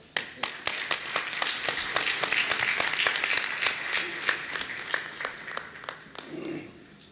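Audience applause at a mushaira, a lively burst of many hands clapping that swells and holds steady for several seconds before trailing off, with sharp individual claps standing out near the front.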